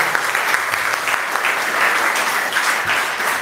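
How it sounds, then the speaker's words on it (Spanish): A church congregation at a Mexican Catholic service applauds a priest with steady, dense clapping that continues evenly throughout. "Un aplauso para el Padre Víctor Manuel."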